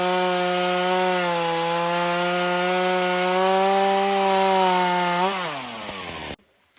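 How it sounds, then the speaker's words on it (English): A freshly sharpened chainsaw bites steadily through wood in the forest at a cabin building site, a loud sustained buzzing whine that dips in pitch near the end of the cut, then cuts off abruptly. "What a difference it makes now that our chainsaw is sharpened. We're getting through wood so much quicker."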